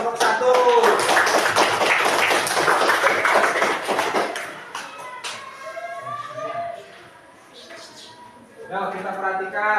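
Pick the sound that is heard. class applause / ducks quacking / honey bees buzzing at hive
class applause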